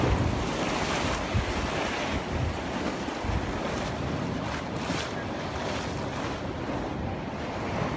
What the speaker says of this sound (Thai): อยู่ทะเลหัวหินเขตทะเลแหลมตะเกียบ